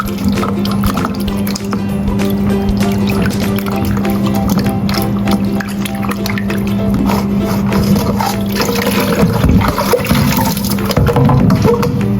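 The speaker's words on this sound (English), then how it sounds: "Black fungus, wash and remove stem." Black fungus is washed in a bowl of water, with continuous sloshing, dripping and squishy handling sounds close up throughout.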